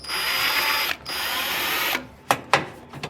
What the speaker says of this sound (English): I gotta drill some holes in the bottom to mount it